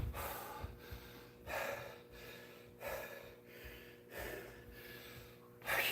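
Heavy, ragged breathing after a hard leg workout: a series of loud gasping inhales and snorting exhales roughly every second and a half, close up with no talk.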